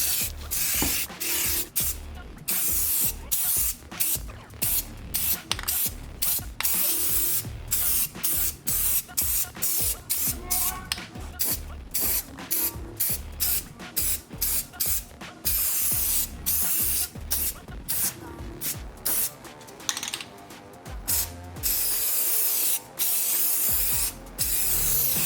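An aerosol can sprays paint onto car transfer case parts in repeated bursts, a steady hiss broken by short pauses between passes, close and fairly loud.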